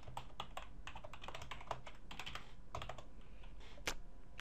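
Rapid, uneven clatter of computer keyboard keys while code is typed for a Java program, close and fairly steady with short pauses and a sharper keystroke near the end, no talking.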